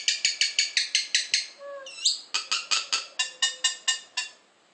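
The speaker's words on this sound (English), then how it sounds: "Little talking Mynah bird." A pet mynah bird calling up close, a steady series of loud rhythmic harsh notes with a few whistled rising sounds in the middle, no human voices.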